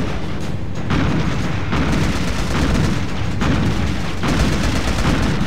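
Artillery barrage explosions in the video game Pacific Gunner pound out as a rapid run of loud, booming blasts with sharp cracks between them, stacked close together with almost no pause.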